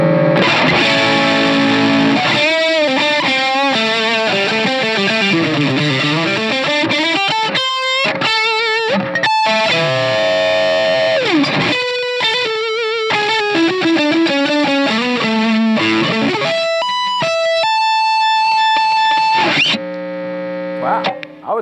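Ibanez RG550 electric guitar played through its middle pickup with heavy distortion, loud and close, with fast riffs, bends and sustained ringing notes over about twenty seconds, with a humming buzz in the pauses.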